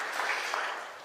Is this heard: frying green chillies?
no